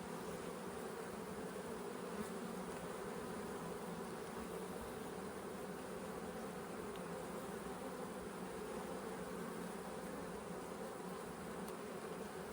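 Honey bees drone at an open hive during a queen acceptance check, a dense continuous buzz of many insects that stays steady and close for the whole stretch, with no voices.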